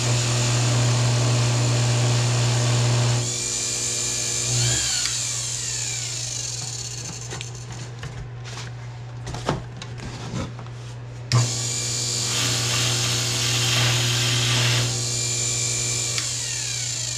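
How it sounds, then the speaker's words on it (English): A buffing wheel works compound into the finish of a 1968 Fender Precision Bass, a steady whirring motor with a rubbing hiss that drops and scuffs midway, then returns loud and even. "Just going to add some buffing compound to this."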